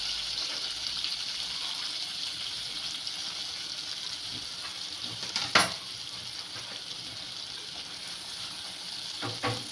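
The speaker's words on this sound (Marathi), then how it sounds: "तो कांदा याच्यामध्ये चांगला परतून घ्यायचा आहे आपल्याला" Finely chopped onion sautés in oil and butter for Mumbai-style pav bhaji, a steady close sizzle running throughout, with a few brief scraping stirs rising above it near the middle and end.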